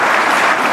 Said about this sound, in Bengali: আমাদের ক্রীড়া মন্ত্রীর জন্য একটা জোরে হাততালি হবে